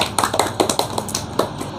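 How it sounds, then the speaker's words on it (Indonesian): A third-grade classroom full of children breaks into scattered, uneven clapping, the sharp hand claps crowding together in a quick, irregular burst close by. "Ya, tepuk tangan untuk kita semua"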